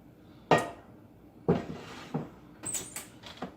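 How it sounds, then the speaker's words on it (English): A few close metallic clunks and scrapes as a hot cast iron skillet is taken out of the oven and set down, separated by short pauses. "I'm going to take my hot pan out."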